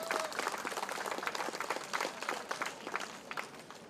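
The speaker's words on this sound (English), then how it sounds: "Commissioner Evans, so we can give him a clap" An outdoor crowd at a community night event claps in a lively, uneven patter, moderately distant and fairly quiet.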